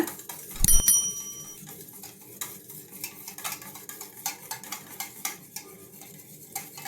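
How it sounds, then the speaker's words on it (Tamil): A spoon stirs egg batter for egg appam, beaten eggs mixed with salt and turmeric in a bowl, giving quiet rhythmic scraping and light metallic clinks after a sharp opening clatter. "இதை நல்லா கலந்து விட்டுக்கோங்க."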